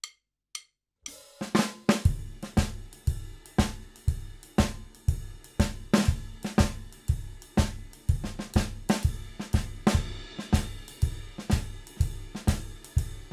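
Energetic drum-kit shuffle with accented ride cymbal strokes, starting after a brief pause and then driving steadily with punchy kick, snare and bright, pointed cymbal hits, close and loud with no voices.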